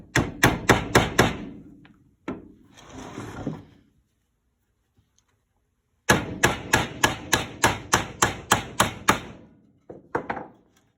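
A hammer drives long nails through a wall brace into a sill plate. There are two quick series of sharp, ringing blows of about eight strikes each, with a short scraping, shuffling pause between them.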